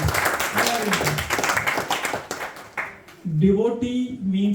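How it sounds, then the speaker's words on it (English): A small devotional study group applauds a member. Scattered clapping runs for about three seconds and then fades out, and a voice begins speaking as it ends. "Please give a round of applause to Dhruv."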